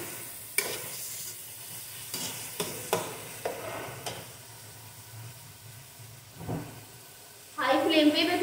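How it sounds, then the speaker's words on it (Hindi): Onions browning in a pan over a high flame, with a constant frying sizzle broken by repeated scraping stirs, then a louder burst of sizzling near the end; a voice talks faintly at times. "हाई फ्लेम पे मैं प्याज को ब्राउन करती हूँ."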